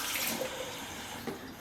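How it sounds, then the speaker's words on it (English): Water pours and splashes steadily as fresh mozzarella is drained for a homemade Italian pizza topping, a continuous close rushing hiss with no talk. "Let's drain all the water and put the mozzarella in the container"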